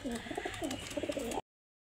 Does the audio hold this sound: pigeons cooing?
yes